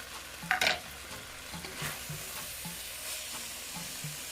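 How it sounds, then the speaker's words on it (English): Corned beef fries in a pan with a little olive oil, giving a soft sizzle and repeated scraping stirs, with one sharp utensil clatter early on and no talk. "You can even cook up the corned beef like this and eat it"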